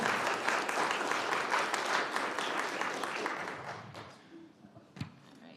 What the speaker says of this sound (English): let's give a round of applause right now